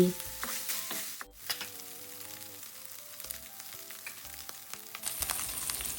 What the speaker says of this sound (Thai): ผัดให้ทุกอย่างเข้ากันดี